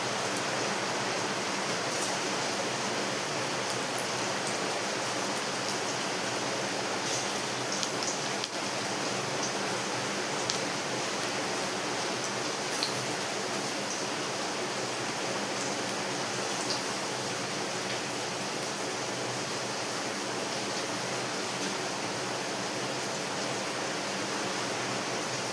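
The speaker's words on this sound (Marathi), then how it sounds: "आणि पाऊस तर खूप चालू आहे बघा बाहेर" Heavy monsoon rain pours outside a kitchen as a continuous, even hiss of dense rainfall, with no pauses and no voices, holding at a steady moderate level throughout.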